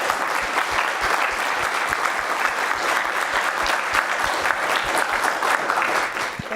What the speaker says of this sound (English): if I could ask for one more round of applause for an incredible presentation.